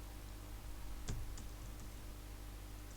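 A few faint clicks from typing a test username on a computer keyboard, with one sharper keystroke and lighter taps after it, quiet and isolated.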